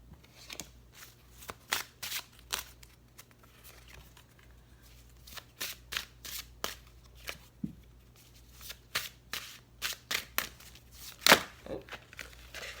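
Tarot cards are shuffled and drawn up close, with a long series of sharp riffling and slapping bursts at an uneven rhythm, spaced by brief quiet pauses.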